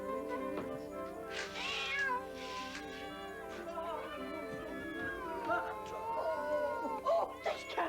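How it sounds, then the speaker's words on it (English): A soaking-wet cat meows repeatedly in drawn-out, wavering cries, close and prominent, with other voices talking underneath and around the calls. "Oh, this cat's wet!"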